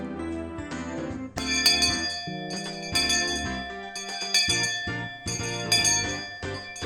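A hand bell swung by a school principal as the school chime, ringing out in a run of bright, sustained tones that overlap and repeat for several seconds, with no voices.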